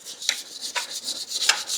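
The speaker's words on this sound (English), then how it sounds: "I'm going to just try sanding out it." A bicycle frame's seat tube is sanded by hand so a dropper seat post will fit, giving short, soft, rhythmic rasping strokes about every half second, close by and fairly quiet.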